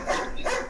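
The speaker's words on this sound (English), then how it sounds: "Hush with the barking. Who's that? It's a dog." Dog barking during a phone call, two short bursts about half a second apart, moderately loud and close, with no clear talk over them.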